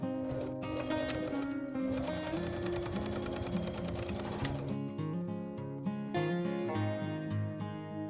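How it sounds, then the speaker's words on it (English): A sewing machine stitches close along the long edge of fabric for a drawstring treat bag, running steadily and loud for several seconds, then settling into lighter, irregular mechanical taps. "Sew close to the long edge and set aside."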